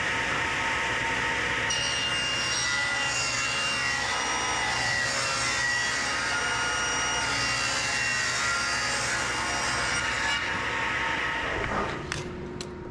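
A table saw rips 1.5 inch wide wooden strips for a cutting board, a loud steady whining cut lasting about ten seconds before the blade winds down near the end.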